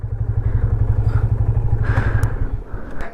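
A KTM 390 Adventure motorcycle engine idling up close, with a steady low, rapid pulsing throb and some mechanical clatter throughout.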